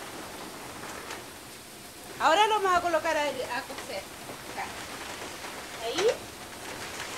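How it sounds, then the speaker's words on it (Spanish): Steady broadband rain and hail pour down outside a warm kitchen in Chiloé, Chile, a constant hiss beneath someone speaking Spanish. "afuera, mucha lluvia,"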